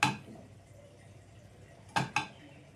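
Milk halwa is scraped out of a pan into a bowl, giving a soft clink at the start and two sharp utensil knocks near the end over a quiet background.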